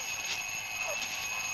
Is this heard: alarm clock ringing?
yes